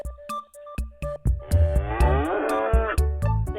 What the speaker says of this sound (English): The cow eats grass.